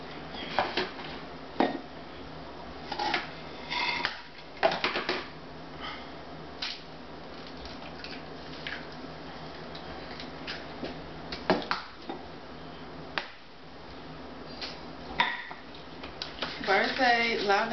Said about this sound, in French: mélangez les œufs